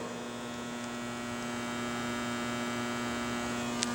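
A constant electrical buzz from overhead lights in a car showroom hums steadily and faintly with a tiny click near the end, and nothing else is heard.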